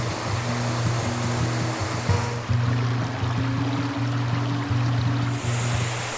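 Bridesmaids Falls at Bushkill Falls in Pennsylvania, a steady, loud rush of falling water that fills the scene continuously, with a low droning hum running beneath it.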